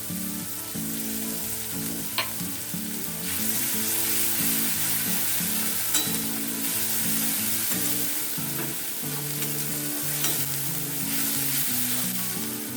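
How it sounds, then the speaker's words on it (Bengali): Onions fry in a pan with garlic paste added, giving a steady loud sizzle, with intermittent scraping clinks of a spoon stirring through it and no talking. "পেঁয়াজটা মোটামুটি ভাজা হয়ে এসছে, এতে আমি দিয়ে দিচ্ছি রসুন বাটা"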